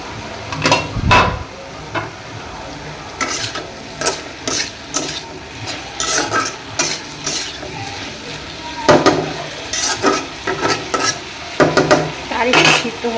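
Bitter gourd (karela) fries in a pan at home, sizzling with repeated scraping and stirring strokes and the occasional clink of a spatula against the pan, close and steady.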